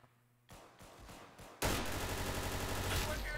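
A mac and cheese gun fires in the Roblox game Arsenal, a few separate shots followed by a loud, sustained burst of rapid gunfire close up.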